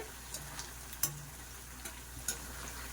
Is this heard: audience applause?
no